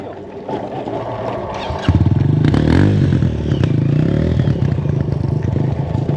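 A MegaWheels electric dirt bike from Amazon is ridden nearby, its motor rising into a loud steady whine with rattling and clatter from the frame, no talking.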